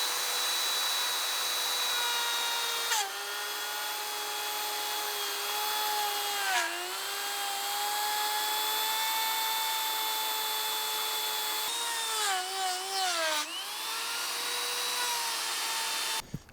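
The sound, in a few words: router cutting a channel in wood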